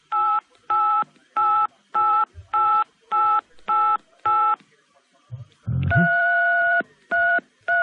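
A caller plays telephone keypad tones in an even, musical rhythm: eight short evenly spaced beeps, a brief low rumble, then longer held tones, loud and clear on a phone line.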